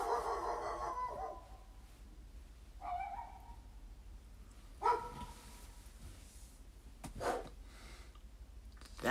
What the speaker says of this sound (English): But I wonder what they're barking at